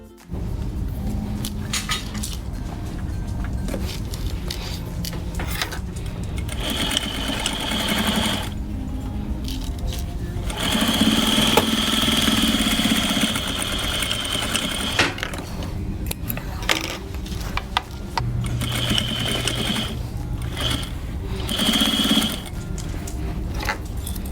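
A sewing machine stitches the shoulder seams of a coat made from a quilt, a loud steady whirring hum that runs close up in long bursts with short pauses between them, with no talking.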